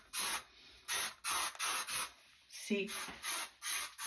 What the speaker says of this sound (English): And then I use some hairspray. This is the Chi hairspray.